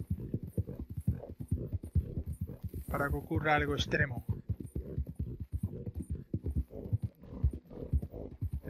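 Rapid galloping horse hoofbeats in Red Dead Redemption 2 pound steadily throughout while someone talks in Spanish over them, with a brief burst of louder voice in the middle.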